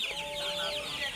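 Sonali super hybrid hens and chicks on a farm give a steady chorus of clucks and soft chirps, close and continuous, with no talking.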